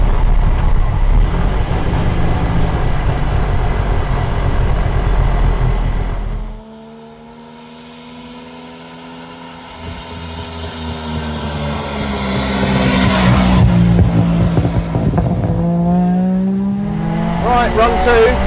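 German low-rider estate car accelerating hard in 3rd gear on a country road, loud engine roar with rising revs, a brief drop-off partway through, then climbing again under strain.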